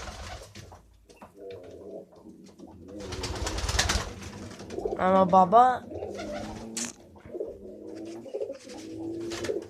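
Nesting pigeons or doves give low, rolling coos amid rustling, with someone talking over and between the calls.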